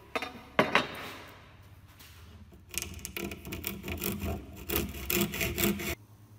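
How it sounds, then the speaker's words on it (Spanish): A handsaw cuts through wood on a workbench during the building of a wooden bookshelf. After a few knocks at the start come rapid, raspy back-and-forth strokes that are close and fairly loud, and no one speaks. "Y le voy a cortar con serrucho."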